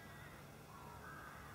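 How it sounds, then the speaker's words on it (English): A crow calls far off across open country, its caw faint and buried in steady wind and broadband outdoor noise during an HMR rifle hunt. "Okay, I've got a crow 221 yards away."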